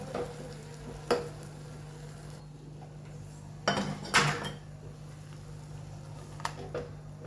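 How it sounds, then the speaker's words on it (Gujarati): Spice tempering added to dal in a pot, with a few sharp metallic clinks and clatters of utensils over a low, steady sizzle and background hum, spaced irregularly. "હવે મસાલો આપણો નાખી દઈએ દાળમાં"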